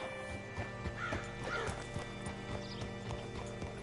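Rhythmic clip-clop of horse hooves with a whinny rising over them midway, set against a steady background music bed, in the video game Red Dead Redemption 2.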